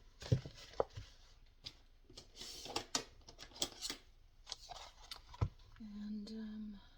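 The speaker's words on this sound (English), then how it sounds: "let me trim this off." Scissors trimming material in several sharp, quiet snips spaced irregularly, close up, with soft rustling and a faint voice between cuts.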